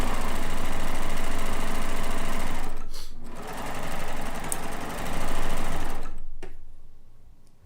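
A sewing machine runs at a steady fast hum while stitching quilt blocks, loud and close, with brief pauses and speed changes before slowing and stopping near the end.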